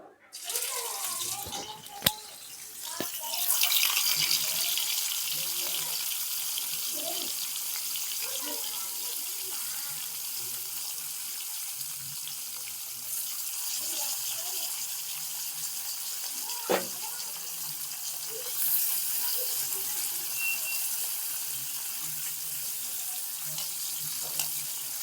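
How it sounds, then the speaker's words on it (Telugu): Salted dried tataki fish drops into hot oil and sets off a loud, steady hissing sizzle that carries on without break, with a few faint clinks. "చేపల్ని నూనెలో వేసుకుందాం."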